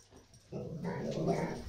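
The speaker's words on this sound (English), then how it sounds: "And there's my dog trying to defend the universe because we have new neighbors and she doesn't like it." A female dog, upset by new neighbors, barks, yips and growls indoors in a busy, fairly loud burst that starts about a third of the way in and continues to the end.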